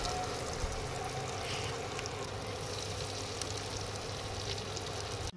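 Fish coated in rice flour frying in hot oil in a pan, a loud, dense, continuous hiss and crackle close by with no talk over it.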